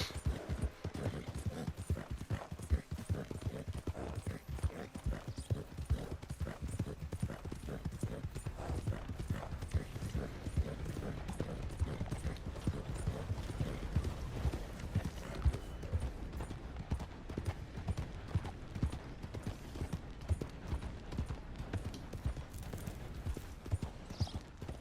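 Horse hooves clip-clop steadily in Red Dead Redemption 2, a continuous rhythmic trotting beat that is fairly faint and carries on throughout without pause.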